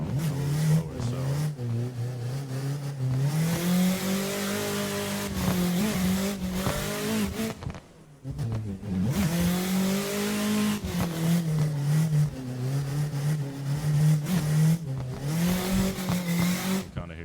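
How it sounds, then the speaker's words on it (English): A video game car drifting on the Tsujigiri drift mod, its engine droning and rising and falling as the throttle is modulated, with brief tire squeal and a short dip around the middle, while someone talks over it. "you kind of hear me modulating the throttle a little bit"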